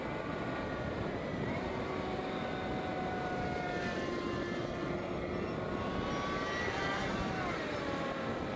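A small Warbler UAV model aircraft on its maiden flight, doing rolls and loops, hums with an electric motor whine that rises and falls in pitch. It is faint and distant against steady background noise.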